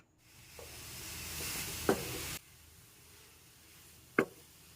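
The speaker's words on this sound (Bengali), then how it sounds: "কোকোনাট পাউডারটা দিয়ে দিচ্ছি এবার অনবরত এটা নাড়াচাড়া করে শুকনো করে নিতে হবে" Coconut powder being dried in a pan over a low flame for coconut laddu gives a faint, soft hiss, punctuated by two quick spatula scrapes against the pan.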